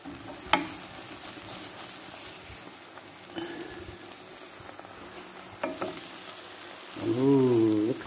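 A birria taco fries in a pan and is flipped one-handed: a low continuous sizzle punctuated by a few sharp scrapes and clanks, with a brief voice-like tone rising near the end.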